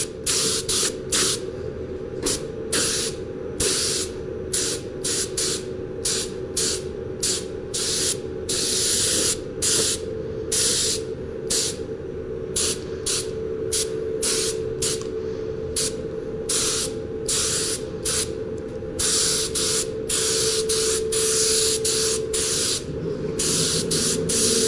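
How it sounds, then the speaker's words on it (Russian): A spray gun laying down lacquer in short repeated hissing bursts, each a second or two long with brief pauses between, steady and close, with a constant low hum beneath and no talking. "Ну и начинаем лачить."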